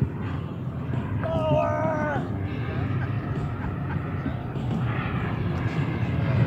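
An RC model Avro Vulcan bomber flies a trim pass at around two-thirds throttle, its steady jet whine heard at a distance under a bed of outdoor noise and a voice.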